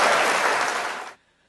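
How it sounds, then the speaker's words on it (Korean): A seminar audience at a church claps to welcome the speaker, a dense burst of applause that fades out after about a second into near silence. "뜨거운 박수로 환영해 주시면 감사하겠습니다."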